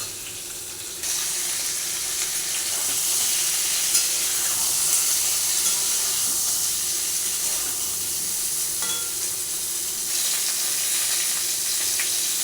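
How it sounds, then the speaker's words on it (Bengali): Pointed gourd and tomato fry gently in a pan over medium heat, giving a steady, loud sizzle that holds evenly throughout with no talking. "মিডিয়াম আছে এগুলো হালকা করে ভাজতে হবে"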